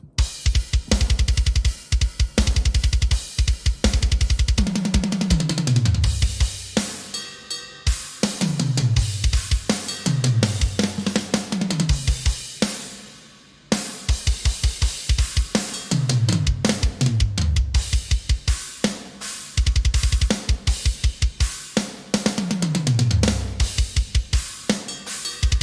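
Programmed heavy-metal drum loop from the Ultimate Heavy Drums plugin: tight rapid kick drums under crashing cymbals, with repeated low tom fills, loud and dense, one brief pause midway, no voices.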